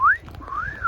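A person tries to whistle, producing two wavering rising-and-falling tones, one short at the start and a longer one near the end, fairly close with faint background noise.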